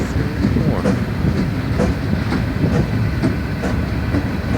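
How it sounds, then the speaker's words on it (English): Freight train led by seven Norfolk Southern locomotives, including four-axle units, passing by with a steady loud low rumble and regular clickety-clack of wheels over rail joints. "a lot of 4-axle locomotives"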